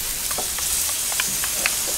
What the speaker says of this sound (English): To the hot pan, I'm adding a diced onion.